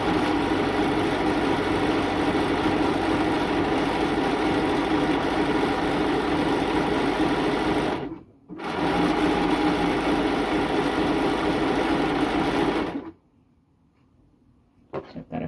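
A serger stitches and trims a T-shirt seam, running as a dense, steady mechanical whir with one short pause midway before it stops and near silence follows.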